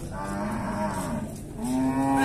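Cows mooing at an outdoor cattle fair in Dois Riachos, Alagoas, with a long, loud, low moo followed by a second rising call, close by and clear of talk.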